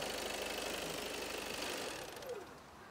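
A Volkswagen Passat GT diesel engine idles with a low, even clatter that holds steady, then drops away and leaves only faint rumble.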